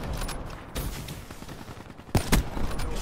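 Sniper rifle fire in the Black Ops video game, heard as sharp, loud gunshot cracks over game background noise, with two strong close shots near the end.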